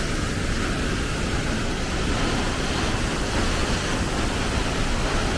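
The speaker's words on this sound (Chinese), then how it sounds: "好大的瀑布啊！ 这个瀑布太大了" A large mountain waterfall roars without a break beside a washed-out road, a dense, loud rush of falling water filling the whole scene.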